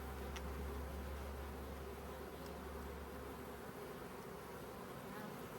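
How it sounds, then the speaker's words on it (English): Honey bee drones take off from a hive in a loud, continuous low buzzing drone that resembles a passing helicopter, close and steady with no talking. "You hear those drones take off, they sound like a helicopter or something going by."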